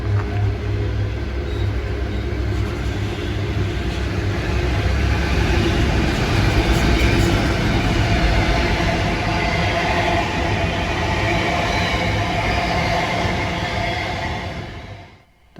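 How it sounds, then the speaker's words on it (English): A container freight train hauled by two NR class diesel locomotives rolls past a station platform steadily with a deep diesel rumble and rattling wagons, loud and close throughout, fading quickly at the very end. "Approaching the platform now is a container train hauled by two NR class"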